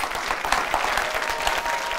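An audience on an Iraqi satirical comedy show claps in a brief, dense burst of applause, steady and fairly close, with no talking over it.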